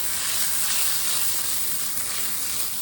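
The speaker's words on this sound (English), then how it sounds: "we're going to saute those up." Onions with yellow, red and green peppers sauté in a pan outdoors, giving a steady, dense sizzle that stays loud and even throughout, with no talking.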